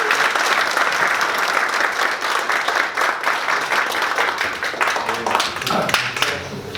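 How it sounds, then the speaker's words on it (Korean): Audience applause fills the hall after a lecture on corporate industrial property rights, steady dense clapping throughout, loud and close, fading slightly near the end. "다시 한번 큰 박수 부탁드립니다."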